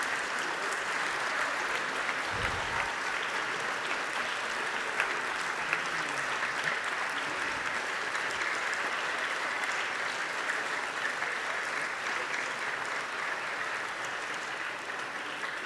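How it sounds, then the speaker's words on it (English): An audience at a school gala and grade 5 graduation applauds teachers standing in the crowd, steady, dense clapping that carries on without a break from start to finish. "Thank you for that never-ending applause."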